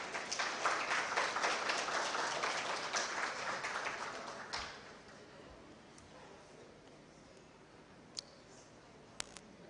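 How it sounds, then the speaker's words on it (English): An audience claps to welcome an ambassador and a Chinese business delegation, the moderate, fairly distant applause fading out after about four seconds into a quiet room with a few isolated clicks. "let us give them a warm clap"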